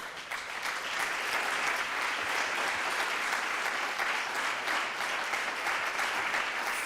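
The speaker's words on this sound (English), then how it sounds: "Big round of applause para todo el equipo." Audience applause at a literary festival event in Valladolid fills the room in a sustained, even roar of clapping that holds steady from start to finish with no talk over it.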